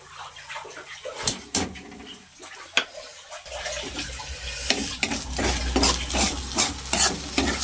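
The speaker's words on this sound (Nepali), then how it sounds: "चलाएर मजाले मिसाउने होला।" Salt is stirred into food in a cooking pan: sharp scraping strokes of a utensil against the pan, sparse at first and then denser over a soft, steady sizzle that grows louder partway through.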